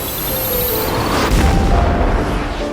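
A military airstrike explosion in the Batman v Superman film, a loud, close, rumbling boom that swells over a couple of seconds beneath a high whining tone.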